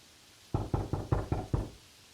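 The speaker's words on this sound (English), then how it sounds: "Why are you knocking the cubicle door?" Six quick knuckle knocks on a cubicle door, close and evenly spaced in one short burst against a quiet background.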